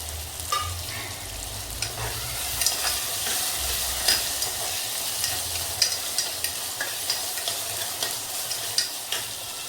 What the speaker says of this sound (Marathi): हे सगळं चांगलं परतून घेतलेलं आहे